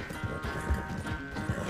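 An Arabian horse gallops in Red Dead Redemption 2, its hooves clopping in a quick, steady rhythm close by, with a faint whinny in the mix.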